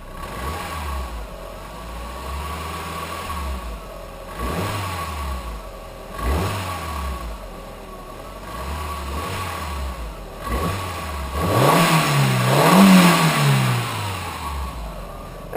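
A Volkswagen Golf car engine is revved repeatedly in a few spaced bursts, each rising and falling in pitch, with a longer, louder rev near the end; close by and with no voices.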